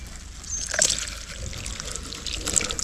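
Water trickles and splashes as it is poured out of a small container holding a tiny fish catch, a soft continuous pour with a couple of brighter splashes.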